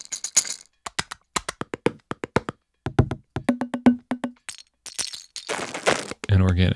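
Plastic sound effects from a percussion sample library, a rapid series of sharp clicks, taps and cracks in quick uneven bursts, some with brief ringing tones, ending in denser rattling scrapes.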